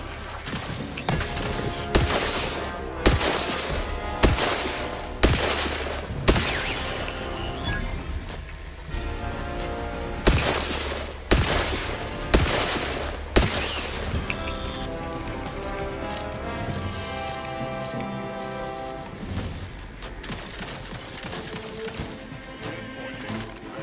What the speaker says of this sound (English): They're totally shooting at me.